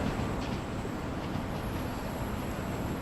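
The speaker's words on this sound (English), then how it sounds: "Now we just joined the train after it came off Barking Riverside." Train Sim World 4 London Overground unit running on the Gospel Oak to Barking Riverside line, a steady broadband rumble of wheels and traction with a faint high whine, constant and close throughout.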